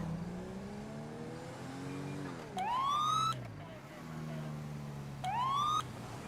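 A Chevy Impala police car in the LSPDFR video game runs its siren, a low engine drone giving way to two short, rising electronic whoop bursts, loud and close, with no talk over them.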